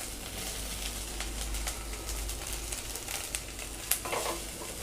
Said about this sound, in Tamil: நான் தேங்காயும் லைட்டாக வதக்கிக்கிறேன்